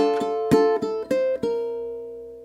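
Ukulele strumming a flamenco rhythm: one longer opening hit followed by a few quick eighth-note strums, then a chord left ringing. Close, clear and solo, with no voices.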